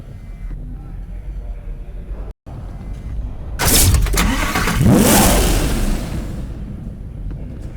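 A 6.0-liter V12 police car from Need for Speed: Hot Pursuit roars to life midway, a loud rising rev that swells and sweeps past, following a stretch of narration over quieter background sound.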